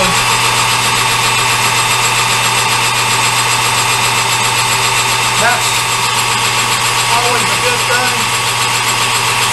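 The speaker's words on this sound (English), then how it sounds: "if I can drill this hole out to what I need it to be." A machine motor hums and whines steadily throughout, loud and close, with faint brief sounds over it, as a machinist drills out a hole for a dresser repair.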